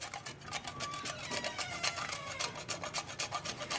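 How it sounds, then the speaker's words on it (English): A block of cheese being grated by hand gives a fast, rhythmic rasping, steady scrape after scrape, close and fairly quiet with no talking. "So, with the way that Zion grated the cheese, there's a lot of it."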